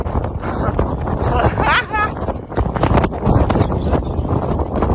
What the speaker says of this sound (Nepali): यस्तो हावा चल्यो यहाँ चाहिँ कपाल होइन के उडाउँछ